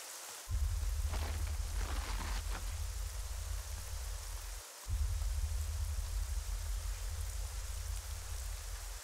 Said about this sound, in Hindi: बारिश बहुत तेज हो रही है, संभल कर जाना